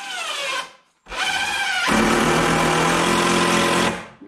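A cordless power drill drives screws into lumber for a moveable wood rack: a brief whir, a short pause, then a loud, sustained high-pitched motor whine that bogs down slightly under load before cutting off.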